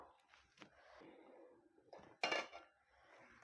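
A spoon stirs boiling milk in a metal pot in a home kitchen, making soft scrapes and a few sharp metallic clinks against the pot, quiet and close.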